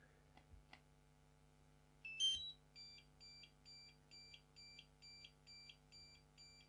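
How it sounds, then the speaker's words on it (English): Mavic Mini drone controller with unplugged joysticks giving an error signal: a quick chirp, then a regular series of about ten short, faint electronic beeps repeating twice per second over a low hum. "it's making this beeping noise because the joysticks are unplugged"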